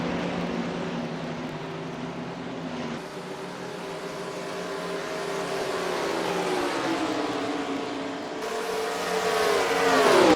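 Race cars in the NASCAR Racing 2003 simulator run a preseason test session at Nashville, a steady engine drone with several cars rising in pitch as they accelerate, growing louder toward the end with no talk.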